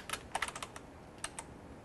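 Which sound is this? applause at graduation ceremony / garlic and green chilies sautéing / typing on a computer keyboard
typing on a computer keyboard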